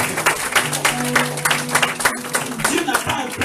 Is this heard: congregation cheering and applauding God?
yes